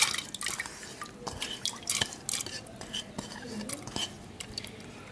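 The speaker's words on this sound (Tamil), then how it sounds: "குக்கரில் வந்து நம்ம ஏற்கனவே ஊற வச்சுருக்கிற துவரம்பருப்பையும் கடலைப்பருப்பையும் சேர்த்துப்போம்." Soaked toor dal and chana dal are added to a pressure cooker, with soft wet drips, scrapes and light metallic clinks of a spoon against the pot, close and quiet.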